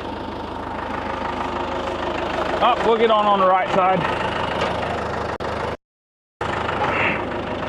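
A John Deere 5520 tractor engine idles with a steady low rumble while a person speaks briefly over it, then a short dropout before the engine noise resumes.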